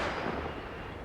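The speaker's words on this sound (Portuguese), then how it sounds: "eu vou dar o tiro com a RPG e ele vai cair bem pro lado" An RPG rocket launcher fired in the video game Arma Reforger, one loud, broad whooshing blast that roars close up and fades out over about a second.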